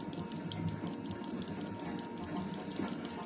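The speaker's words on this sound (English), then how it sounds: "The train is slowing down to go through the station." A slowing train in Red Dead Redemption 2 rumbles on with low mechanical noise and faint repeated clicks and clacks, steady and moderately loud.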